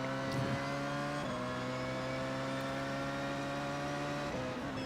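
A Porsche 919 prototype in the iRacing sim pulls hard down a hill at Le Mans, its engine a steady, loud harmonic drone with brief dips at gear changes, continuous and alone without talk.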